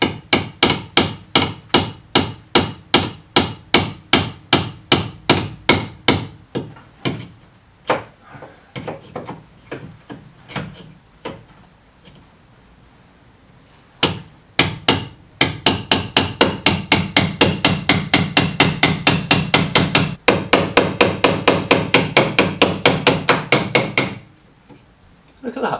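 Dozens of sharp hammer taps on the dented body panel of a Toyota MR2. They come in steady rhythmic runs, pause, then resume as a fast, dense series of close, loud strikes.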